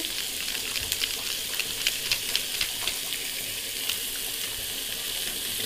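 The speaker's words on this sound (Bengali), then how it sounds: "গরম মশলাটা দিয়ে কষিয়ে নিচ্ছি" Chicken with garam masala sizzles steadily in a pan while being stirred, a continuous frying hiss broken by small crackles and scraping taps, close and moderately quiet, with no voices.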